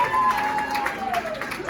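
Audience applause and cheering at the Hyenas comedy club in Dallas as comedian Dez O'Neal is brought on, a steady broadband clatter of clapping with a sustained tonal line running through it.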